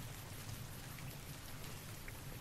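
Rain in Fallout: New Vegas, a steady hiss of falling rain with soft low rumbling beneath, faint and constant throughout, with no voices.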